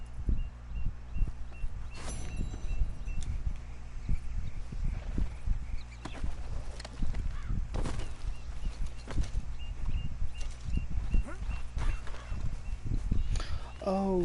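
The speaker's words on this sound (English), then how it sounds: "that's his horse" A horse walks with intermittent clip-clop hoofbeats in the Red Dead 2 video game, with a brief whinny near the end and a background music bed.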